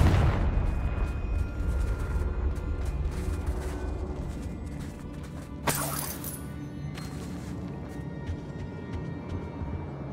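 Muffled booming blast from a Confringo fire spell in Hogwarts Legacy, a low rumbling burst followed by a sharp crackling hit midway, over steady game ambience.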